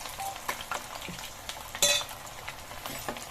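Marinated paneer 65 sizzles gently in a pan over a low flame, a steady soft frying hiss broken by occasional stirring clinks and one brighter burst of spattering partway through.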